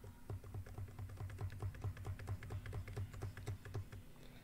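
Rapid, steady typing on a computer keyboard with a few Tab presses, each keystroke a soft close click in an even run with no talking.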